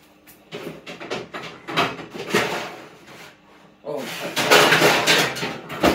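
Frozen breaded cod fish fingers going onto a tray and into a home oven, with a string of close knocks, rubs and scrapes, then louder clattering of the metal tray and the oven door, while a person talks.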